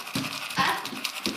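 A husky pants close by in quick, breathy bursts with a soft steady rhythm, each puff of air audible against a faint background.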